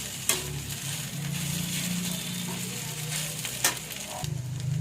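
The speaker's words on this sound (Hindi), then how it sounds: "इस आलू को भी मैं अच्छे से मिक्स कर लूंगी।" Grated potato is stirred into a flour dough mixture in a hot pan, with a constant low frying hiss and a couple of crisp spatula scrapes against the metal.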